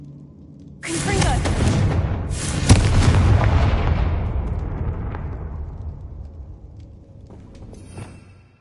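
A Confringo spell explosion in Hogwarts Legacy: a loud, close boom followed by a heavy rumble that slowly fades over several seconds.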